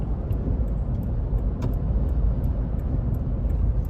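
Steady low road rumble from inside a 2015 Lexus GX 460 four-wheel-drive SUV cruising smoothly, with a constant engine and tire drone and faint light ticks above it.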